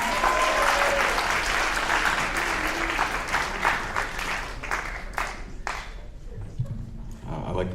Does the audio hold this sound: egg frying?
no